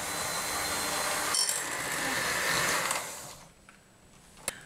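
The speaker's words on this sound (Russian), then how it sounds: "Начинаем взбивать сливки на медленной скорости миксера." Electric mixer whipping cream at low speed for a Valentine's Day cake, a steady broadband whir running loud and close for about three seconds before dropping away to quiet, with one sharp click near the end.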